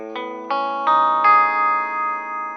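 A guitar tone passes through an EQ pedal with high-pass and low-pass filters pushed together toward the middle, leaving a thin, narrow-band lo-fi sound: four plucked notes in a row, each ringing on and sustaining loudly with no other sound.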